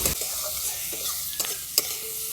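Prawns fry lightly in a pan with a continuous soft sizzle, broken by a few faint clicks and scrapes as they are moved about.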